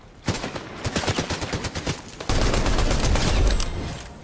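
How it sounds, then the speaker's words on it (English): Automatic gunfire in Fortnite, a rapid run of sharp close shots followed by a denser, heavier volley of fire, loud and unbroken for several seconds with no talking. "But who's shooting at you?"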